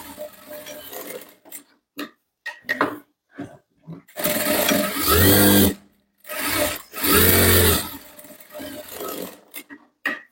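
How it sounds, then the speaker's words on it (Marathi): A sewing machine stitching the side seams of a boatneck blouse runs in short loud bursts, two long runs of about a second and a half each, between quieter clicks and handling sounds, close up. "इथे आता आपल्याला अजून कडेने एक एक शिलाई देऊन घ्यायची आहेत"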